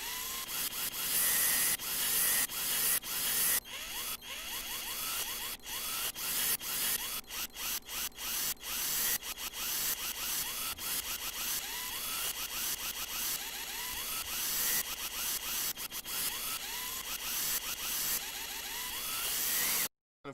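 Layered power drill samples with adjusted start times run in a dense, continuous barrage of overlapping whirs and ratcheting stutters, loud and close throughout with no talking.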